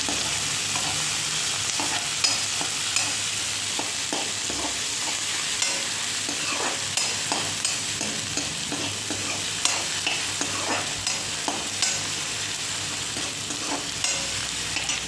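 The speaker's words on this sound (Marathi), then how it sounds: "चांगला परतून घ्यायचा कांदा." Onions sauté in a pan for a dry chickpea dish, with a steady close sizzle and a spoon scraping and stirring in regular strokes throughout, no talk.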